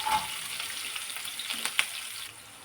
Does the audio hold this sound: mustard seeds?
yes